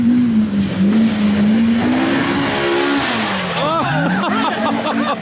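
Polaris RZR Pro R off-road side-by-side revving and accelerating hard on its tires, loud and close, engine pitch climbing and dipping with rapid revs near the end, voices talking over it.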